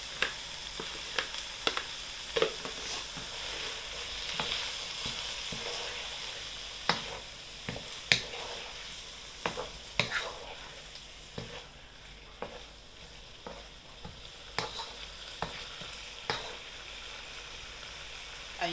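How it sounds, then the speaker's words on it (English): Tofu and broccoli fry in a pan with a constant bright sizzle, punctuated by sharp pops and spatter cracks at irregular intervals, close and fairly quiet, with no voices. "And you just leave it to fry on its own."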